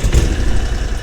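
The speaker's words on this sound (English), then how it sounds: "the engine warmed up." A warmed-up engine idles steadily, with a close, loud low rumble and a few deeper thumps near the start, before a boat's water entry.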